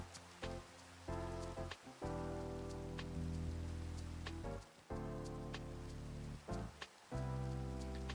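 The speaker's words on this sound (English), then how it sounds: "Of course, it's raining and it's almost nighttime." Rain falls in the video game Minecraft as a steady hiss and patter, with layered tonal sounds running over it and a few brief gaps.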